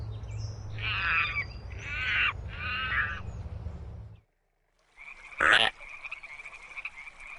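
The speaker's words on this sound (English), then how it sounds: "The frog." A frog in the rainforest gives three short rasping croaks in quick succession, close and clear. After a brief silence, one sharper, louder call follows.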